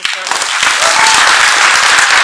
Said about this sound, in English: just one more huge round of applause for them